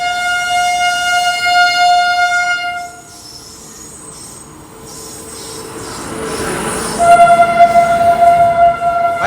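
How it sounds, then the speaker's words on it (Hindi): Another train overtakes the Seemanchal Express at Jaswant Nagar station, its loud horn blaring, fading, then sounding again over close, rumbling wheels and steel-on-rail squeal, with no voices. "जसवंत नगर स्टेशन पे कोई ट्रेन ओवरटेक कर रही है अपनी सीमांचल एक्सप्रेस को"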